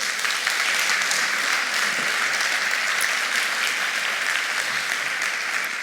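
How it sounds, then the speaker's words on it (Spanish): A strong round of applause at a public talk welcoming a film director, sustained, even clapping from a sizable audience throughout with no one speaking over it. "un fuerte aplauso para él, por favor"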